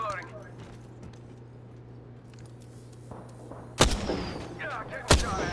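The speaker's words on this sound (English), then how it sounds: "They're shooting at me. Opening fire." Two sharp, loud gunshot blasts from Apex Legends burst out in the second half over a steady low game hum, with a person talking beneath them.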